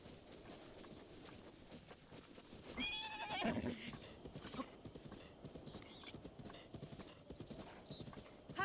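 Rhythmic clip-clop of horse hooves with a horse neighing and snorting in The Legend of Zelda: Breath of the Wild, close, over a steady ambient backdrop.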